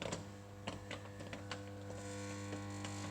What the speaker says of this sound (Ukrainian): працює трансформатор. Чуємо, як працює